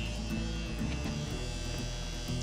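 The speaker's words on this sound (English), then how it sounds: "using clipper over comb technique, making sure that the clipper blade is all the way open" Electric hair clipper buzzing steadily with its blade fully open during a clipper-over-comb haircut, a continuous close mains-like hum with slight fluctuations throughout.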